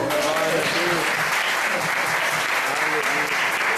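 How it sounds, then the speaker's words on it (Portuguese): A church congregation at a Sunday service applauding together, a dense, steady roar of many hands filling the room, with voices and singing-like tones running underneath throughout. "Aplaude o Senhor."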